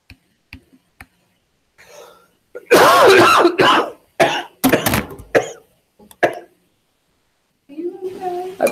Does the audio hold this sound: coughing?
yes